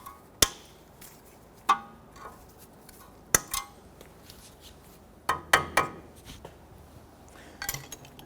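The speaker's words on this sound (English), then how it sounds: "Tap that, and I'm going to cut off the excess." Sharp metallic taps and clicks from work on the outer tie rod of a 2005-2021 Nissan Frontier, likely cutters trimming excess cotter pin and a tool tapping it, heard as about six distinct close strikes spread over quiet gaps.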